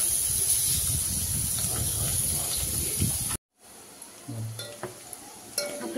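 Onion and a little garlic fry in a pan for a crab curry, a steady close sizzle and hiss that cuts off abruptly, followed by quieter scattered crackles and a few stirring clinks.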